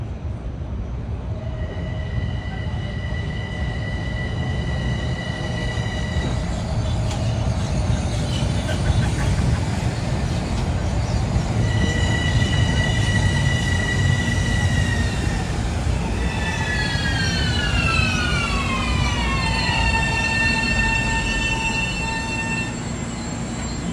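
A Metro-North commuter train rolls into Harlem–125th Street station with a steady rumble, then high tonal horn-like notes and squealing wheels gliding downward as it slows.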